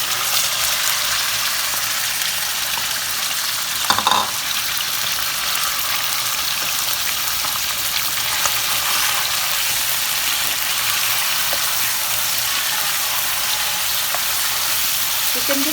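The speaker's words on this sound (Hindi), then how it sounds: "थोड़ा सा मैं इसमें ऑयल ऐड कर देती हूँ और चिकन डालेंगे।" Chicken pieces frying in oil in a pan for restaurant-style chicken fried rice, a steady loud sizzle that runs unbroken throughout, with a brief clatter of stirring partway through.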